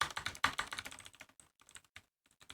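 Fast keystrokes on a computer keyboard during an online typing speed test, a dense, close clatter of clicks that thins into scattered taps and a brief pause near the end.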